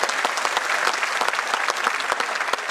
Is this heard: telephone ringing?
no